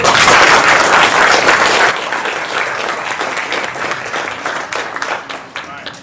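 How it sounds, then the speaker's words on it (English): Sustained applause from a crowd at a military support battalion town hall ceremony, loud and dense at first, then thinning slightly but continuing steadily throughout. "So let's throw a little round of applause."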